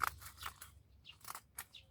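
Scissors snip a potted rose apple (jambu air) plant in a few crisp, close cuts with soft crunchy clipping, fairly quiet, with no talking.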